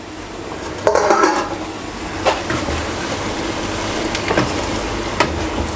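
Kabab karahi being stirred in a pan with fried kebabs and green coriander, giving scattered metallic scrapes and clinks of a spoon against the pan over a low sizzling bed, close and moderately loud.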